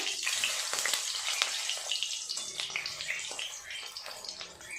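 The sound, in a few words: eggs frying in hot oil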